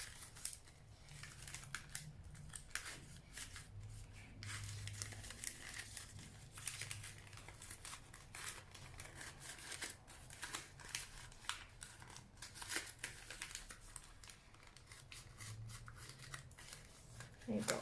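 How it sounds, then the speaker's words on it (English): Scissors cutting paper into strips for seed-starting containers: a quick, dense series of faint crisp snips and rustles, close by, running steadily throughout. "So I'll cut about 1 inch to 2 inches, just like that."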